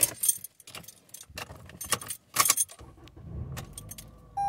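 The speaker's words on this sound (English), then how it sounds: "Let's go ahead and put the key in." Car keys jingle in bursts up close, followed by a metallic click as a key slides into the ignition of a Toyota Camry, then a quiet interior hum with a soft chime at the end.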